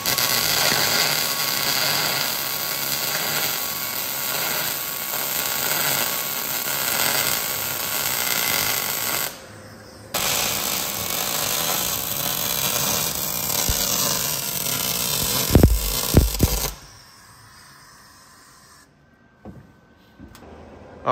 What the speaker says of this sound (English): Then we cut this rear brace that we're gonna start welding on now.